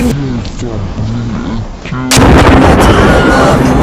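Shot and explosion attack in the One Punch Man: The Strongest video game, with a sudden loud blast cutting in after a stretch of tonal game sound and a voice.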